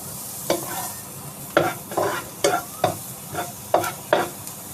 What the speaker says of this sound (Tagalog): Fry the garlic.